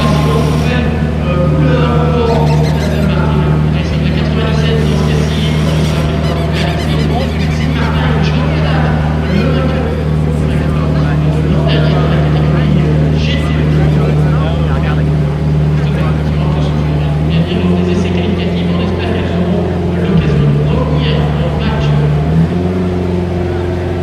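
An Aston Martin GTE Pro race car engine runs through a heat cycle, a loud, steady, droning note held throughout with small shifts in pitch near the end, with talk underneath.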